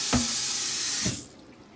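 Tap water runs loud and steady into a sink for about a second, a brief clatter at the start, then the flow cuts off abruptly, leaving quiet room tone.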